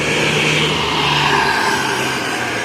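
A Hino RK bus with an XR2 body passing close by, its engine a loud, steady roar with broadband road noise that holds constant throughout, with no talking.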